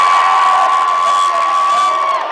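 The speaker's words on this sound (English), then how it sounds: "We have a very large crowd here at Trinity Gymnasium" A very large basketball crowd roars steadily inside Trinity Gymnasium, loud and continuous cheering with a sustained whistle or horn tone running through it, no clear talk on top.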